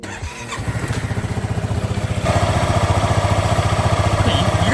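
A Honda Forza 350 scooter, same engine and drivetrain as the ADV350, cranks and fires up, then settles into a steady, pulsing idle that grows slightly louder partway through, recorded up close with no talk.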